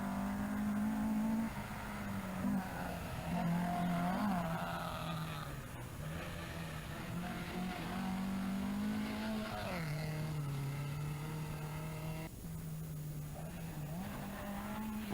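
Rally cars race at the 1984 Galway Rally, including a Talbot Samba and an Opel Manta, with a strong engine drone rising and falling through gear changes and revs, tires briefly squealing, recorded fairly close.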